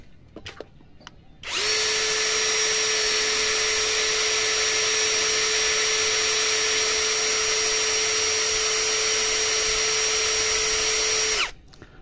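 APR AP12+ cordless battery drill running at full speed on a newer battery: a loud, steady, high-pitched motor whine that starts abruptly, holds constant for about ten seconds, then stops.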